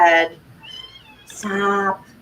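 A pet cat gives several loud, close meows in a talkative run, with short, whiny calls separated by brief pauses.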